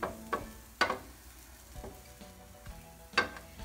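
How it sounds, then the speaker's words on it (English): A mushroom stuffing mixture with breadcrumbs being stirred in a pan with the gas off, soft scraping broken by several sharp taps of a spoon on the pan, close and fairly quiet. "I'm gonna add a pinch of salt and mix it around"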